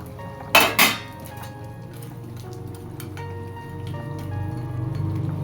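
Fish and eggplant go into a pan of simmering curry sauce with two sharp clanks of utensil against pan, followed by a rising bubbling simmer with small scattered clinks.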